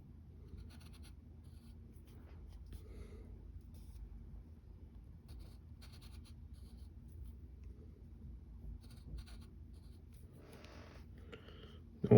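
Pencil scratching steadily on paper while sketching the cartoon character Beast Boy by hand, soft continuous strokes close up over a low room hum, with a few brief sharper scrapes near the end.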